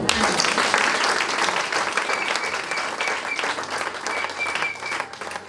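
A church congregation breaks into sustained, dense applause that fills the whole stretch at steady loudness, with faint voices mixed into the clapping.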